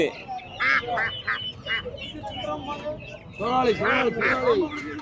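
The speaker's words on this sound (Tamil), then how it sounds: "இது பெக்கின் வாத்து" Pekin ducks quack in bursts of repeated nasal calls at a livestock market, close and fairly loud, with a voice talking in the background.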